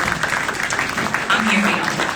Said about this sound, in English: I just hope that y'all can just give yourselves a round of applause